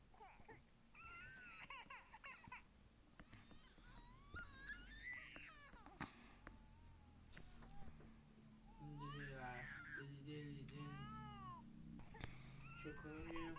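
Wailing baby cries in the horror game Backrooms, high wavering sobs and whimpers in several bursts, fairly faint over a low background hum, with people talking at times.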